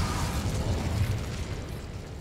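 Incendio fire spell explosion in the video game Hogwarts Legacy, a loud, dense fiery burst and roar that fills the short moment and slowly fades.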